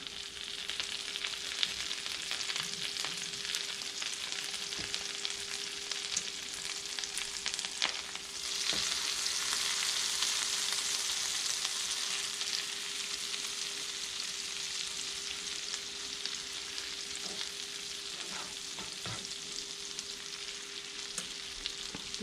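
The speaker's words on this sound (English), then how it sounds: "I'm going to put a stick of butter in there." A stick of butter sizzles and crackles steadily in a hot pan on medium heat, a continuous frying hiss that swells briefly, with a faint steady hum in the background.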